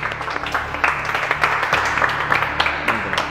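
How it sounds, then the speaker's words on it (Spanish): An audience claps for a donor at a live event, a moderate burst of steady, fairly close applause that continues under faint background voices. "Un aplauso para la señorita."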